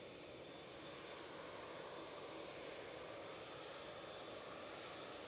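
An airliner on an extended departure from Manchester Airport gives a steady, distant broadband engine roar, faint and unbroken throughout.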